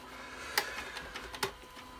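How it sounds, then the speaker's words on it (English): A printer runs during an oscilloscope repair session, giving a steady mechanical hum broken by two sharper clicks and a few lighter ticks, with no talk. "you can hear the printer going"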